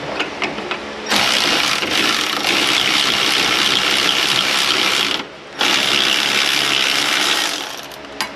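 A ratchet with a 17 mm socket backs out a brake caliper bracket bolt on a 2013 Kia Optima, giving a loud, close, continuous clicking that runs for several seconds, breaks briefly, then resumes.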